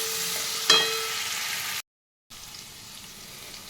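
Potatoes fry with ginger paste and ground cumin while being stirred, a close, even sizzle with a sharp utensil knock early on, then a brief dropout to silence before a fainter sizzle resumes.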